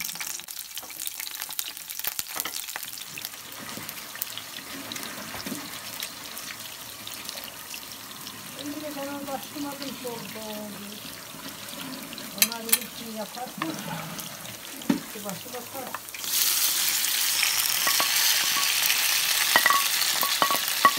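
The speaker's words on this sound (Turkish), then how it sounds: "Bunlar biraz kızaracak yağda." Garden-picked green peppers fry in oil in a rural kitchen. A person talks over faint cooking sounds, then a loud, steady sizzle swells up for the last few seconds.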